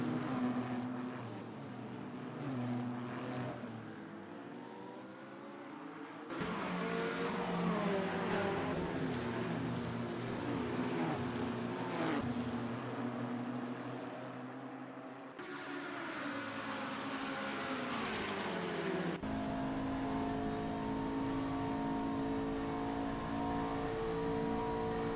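GT race cars, including a Lamborghini, lapping Daytona in a racing game, with engines droning and revving as they pass, the tone changing abruptly between several segments and no talking over them.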